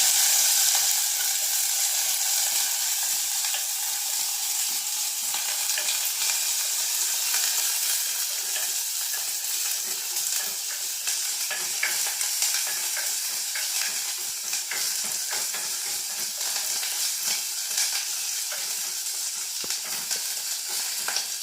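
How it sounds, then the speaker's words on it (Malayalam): Ginger, green chilies and curry leaves sauté in a pan, with a steady loud sizzle and the scrape and clatter of constant stirring, running unbroken with no voices. "4 പച്ചമുളക്, കറിവേപ്പില, ഇതെല്ലാം കൂടെ ഒന്ന് വഴറ്റിയെടുക്കാം"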